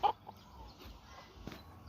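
A rooster chasing a neighbor's hen gives off a few faint, brief clucks, one short call at the start and softer ones after, over a quiet outdoor background.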